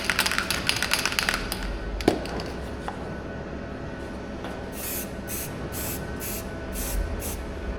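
Aerosol primer sprayed onto a metal International B414 bonnet panel: an early hissing burst, a sharp knock, then a steady faint hiss and several short, evenly spaced spray bursts near the end, close with no talk.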